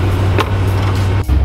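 A truck's engine drones low and steady while it does a burnout in the snow, a continuous close rumble with a brief dip near the end.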